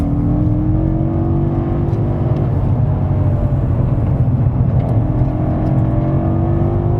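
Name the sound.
BMW M5 F90 accelerating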